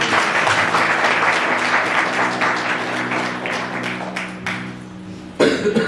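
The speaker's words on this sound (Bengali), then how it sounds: "প্রভু যেন জোরে করতালি দেয়" Congregation clapping in church during a Bengali sermon, a dense steady patter of many hands that slowly thins out before a brief louder burst at the end, with a sustained tonal background underneath.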